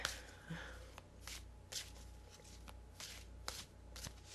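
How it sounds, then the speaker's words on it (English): A deck of angel cards being shuffled and cut by hand, giving a string of soft, close riffles and snaps spread through the quiet room, with no talking. "I'm going to cut the deck."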